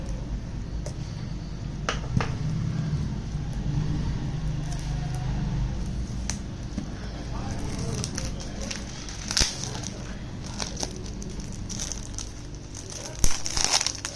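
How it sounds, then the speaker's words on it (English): Plastic wrap being peeled off a PS5 game case for Gotham Knights Special Edition, with soft crinkling and crackling handled close up, plus a few sharper snaps near the end. "now let's unwrap it"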